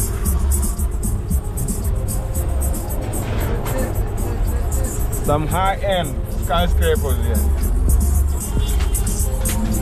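City street traffic jam in downtown Nairobi at night, with steady engine rumble and car noise throughout and someone talking over it in the foreground.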